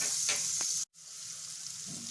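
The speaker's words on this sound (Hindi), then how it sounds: "ग्रेटेड लहसुन डाल दीजिए।" Grated garlic frying in hot oil with cumin and turmeric powder in a pan, a steady close sizzle with a brief dropout and some stirring scrapes.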